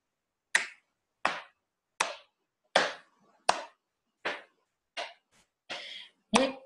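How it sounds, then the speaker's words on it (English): Nine crisp hand claps land in a slow, even rhythm, each distinct and close with silence between them, with no voices heard; the claps are meant as children and an audience clapping. "Let's get some clapping going on"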